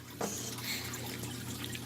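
Water pours and trickles into a fish tank with goldfish, an even, close wash of splashing and bubbling liquid that runs throughout.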